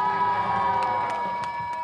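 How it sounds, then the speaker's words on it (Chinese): Crowd at a street show where a woodworker performs with homemade spinning tops, including a top balanced on a wire, cheering and shouting in continuous loud bursts, with a sustained tonal hum beneath. "尖叫声在哪里？"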